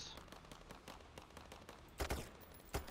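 Sniper fire and other gunshots crack through a Payday 3 heist shootout, with a steady patter of rapid shots and two louder, sharper blasts near the end, all fairly close.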